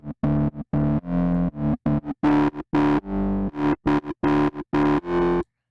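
A modular synth plays a choppy pattern of short distorted tones through a filter with its resonance raised, giving a buzzy, gritty cyberpunk edge, loud and close with no talking.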